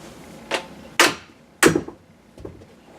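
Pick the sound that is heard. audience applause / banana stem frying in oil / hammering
hammering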